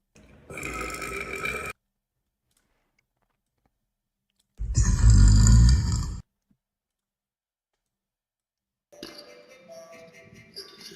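Three long, loud burps play back over a livestream, each lasting one to two seconds and separated by silence, the middle one deepest and most forceful.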